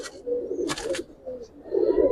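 Silver pigeons coo in soft, low throaty phrases close by, interrupted by a few brief rustling bursts and a faint short chirp.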